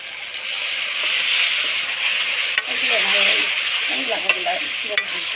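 Spiced curry with garam masala fries and sizzles in a pan, giving a steady loud hiss with intermittent scraping stir strokes and light clinks, close up and without any talk.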